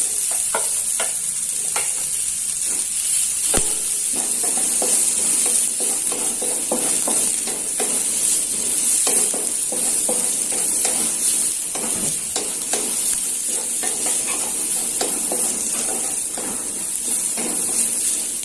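Garlic, chili and sausage stir-fried in a pan, a steady loud sizzle broken by frequent clacks and scrapes of a utensil moving the food, continuing throughout with no talking.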